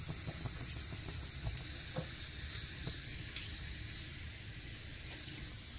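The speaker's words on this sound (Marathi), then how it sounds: "चांगलं तडतड होऊन द्यायचं आहे." Cumin and mustard seeds crackle and sizzle in hot oil for a tadka, a steady frying hiss with scattered sharp pops, close by and with no talking.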